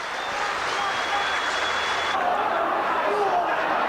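A large rugby league crowd at the Boulevard, Hull, applauds steadily through a 1988–89 match, a dense continuous patter of many hands heard from within the stands, with commentary speech mixed in.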